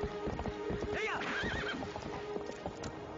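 A horse in the video game Zelda Twilight Princess gallops with rapid clip-clop hoofbeats and lets out a clear neighing whinny midway, game sounds heard alone at moderate loudness.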